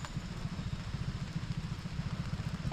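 Mini bike engines putter steadily through a parade lap on a poker run, a continuous low throbbing drone with rhythmic pulses, fairly close and without talk.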